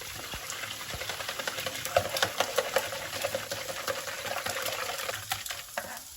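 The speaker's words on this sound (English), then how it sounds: "we're going to whisk that in" Eggs with salt and parsley are whisked in a bowl, a quick run of light clicking, tapping strokes at a steady brisk rhythm, close and moderately quiet, with no voices.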